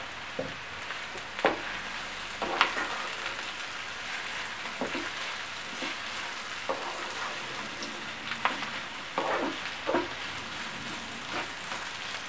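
Green capsicum sizzles in a pan while being stir-fried for veg noodles, a steady crackling fry with scattered clatters of stirring, close and moderately loud, with no voices.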